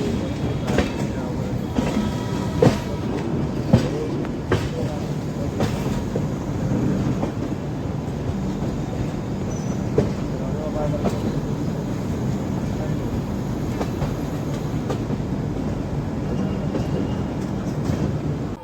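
The Kolkata–Jhansi Pratham Swatantrata Sangram Express passenger train rolls along the rails between Kolkata and Naihati Junction, a steady loud rumble with scattered rhythmic clacks of wheels over rail joints, heard from on board.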